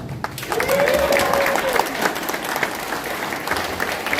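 A small audience at a live demonstration claps together, a steady burst of applause with a faint tonal whistle or sweep briefly rising over it early on.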